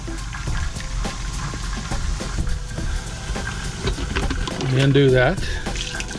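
Tap water rushes steadily in a Jayco Melbourne camper, flushing antifreeze out of the plumbing. The continuous splashing runs under a person speaking.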